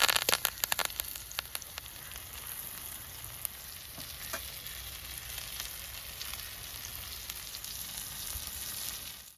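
Fish frying in oil with curry leaves laid on top: a steady, close hiss and sizzle with scattered crackles and pops, busiest at the start, then settling into continuous bubbling with no talking.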